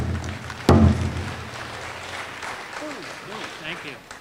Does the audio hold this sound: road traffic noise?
no